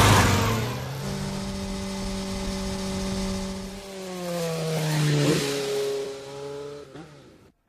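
A car engine revs and pulls away as it drives around the block, a steady harmonic drone that rises and shifts pitch mid-clip, close and loud with no talk.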